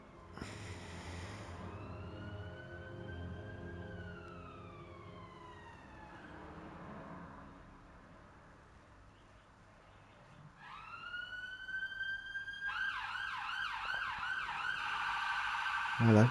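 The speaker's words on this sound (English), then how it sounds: "Hello, sirens again." Emergency sirens pass outside in rising and falling wails, fading to a lull midway before a louder, faster-warbling siren returns and builds toward the end.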